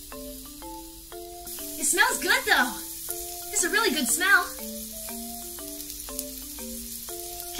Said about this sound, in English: Ah, mushroom sizzle.